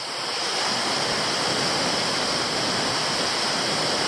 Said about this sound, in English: Well, I've made it to the amazing Montezuma Falls. 104 metre drop. Reasonable flow of water